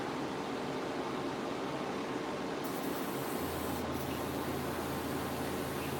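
A thin yellow base coat is sprayed onto a 1:18 scale Wolverine model, giving a steady, even hiss of atomized paint that runs without pause at a moderate level.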